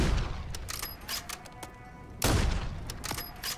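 Rifle shots from the Call of Duty MW3 campaign: a few sharp, fairly quiet reports in a short sequence, the loudest near the end, over low game ambience with no speech.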